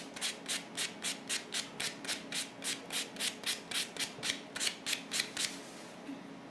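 A medium-grit nail file rasps across a fingernail in an even rhythm of about twenty quick strokes, close and crisp. The strokes run alone and stop just before the end.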